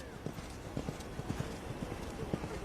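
Polo horse hooves clip-clopping in a steady rhythm, close and clear, during an arena polo match at the Mahalakshmi racecourse in Mumbai, India, with faint background voices.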